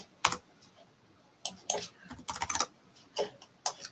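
Fingers typing on a computer keyboard while entering offset values in Autodesk Inventor: a few isolated clicks, then quick bursts of close keystrokes in short irregular clusters, fairly quiet against a still room.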